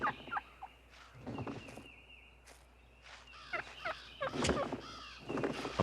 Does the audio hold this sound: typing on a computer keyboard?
no